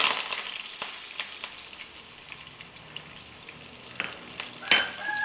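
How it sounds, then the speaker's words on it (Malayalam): Hot oil crackles and sizzles with scattered sharp pops, mustard seeds bursting in a steady irregular patter for mango pulissery, close by with no voices. "അപ്പം നമ്മുടെ കടുവ് പൊട്ടിക്കൊണ്ടിരിക്കുകയാണ്"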